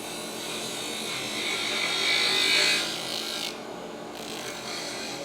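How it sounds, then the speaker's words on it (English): A woodturning chisel cutting the underside of a spinning top on a lathe, giving a continuous close rasping, shaving hiss that swells into a brighter cut in the middle and then eases, heard alone with no talking, in a woodturners club workshop. "you turn the chisel into it and you bring the heel round so the bevel can actually cover that, and that will give you a nice little cut"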